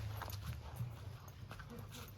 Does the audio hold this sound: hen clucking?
no